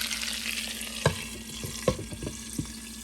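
Salmon sizzles steadily in a pan, a soft crackling hiss punctuated by a few sharp clinks and taps of a utensil, with no talking.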